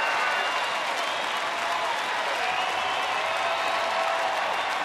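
A baseball stadium crowd of about 35,000 stands and cheers at a Cleveland-at-Texas game in 2012, making a steady, broad roar of applause and shouting that stays even throughout.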